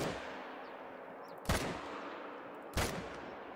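Two hunting rifle shots ring out in theHunter: Call of the Wild, spaced over a second apart, each a sharp loud crack over a steady outdoor ambience.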